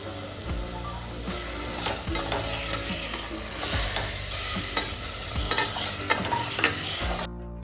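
Chicken curry fries in a pan with a loud continuous sizzle as a spoon stirs and scrapes at intervals, with background music playing underneath throughout.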